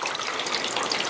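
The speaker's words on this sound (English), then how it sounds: "all the water that's coming down from this roof" Rainwater pours steadily off a roof gutter system in South Boston, a loud, continuous broadband gush close by with no break for over a second.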